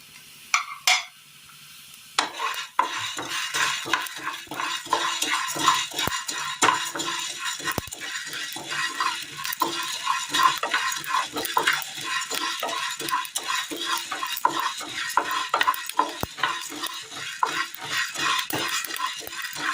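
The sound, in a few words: green gram lentils roasting and stirred in a pan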